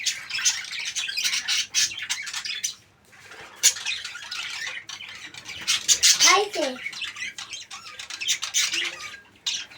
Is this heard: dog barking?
no